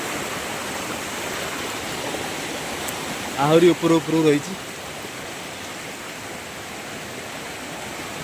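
A waterfall swollen by two days of continuous rain roars in a steady, even rush, with a short burst of speech cutting in briefly midway.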